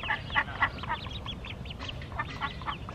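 Baby ducks give a run of high, rapid peeping quacks, several overlapping calls close by over a soft outdoor background, with no talking.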